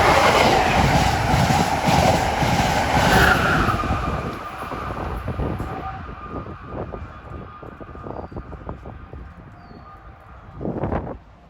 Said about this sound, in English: that train was train 664, the Keystone from Harrisburg to New York